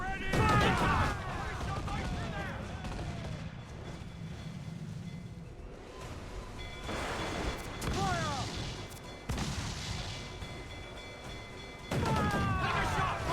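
Ship cannons fire in a naval battle in Assassin's Creed Black Flag, with several booming shots and crashes spread over the passage, mixed with shouted crew voices and game effects.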